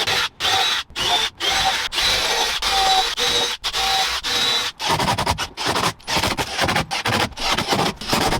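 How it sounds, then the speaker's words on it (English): A power drill pre-drills screw holes in plywood during a Transit van conversion, a series of close, loud whining bursts broken by short pauses between holes. "I'm just going to pre-drill the holes where I'm going to screw in, just so I don't split any of the wood at all"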